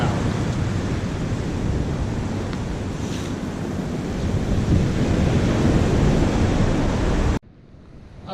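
Ocean surf breaking at Mori's Point Beach: a steady, loud roar of waves mixed with heavy wind rumble on the microphone, running continuously before cutting to a quieter hiss near the end.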